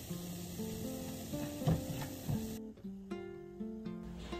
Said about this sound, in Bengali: তাই ভেজা ডালটাই ভেজে নিলাম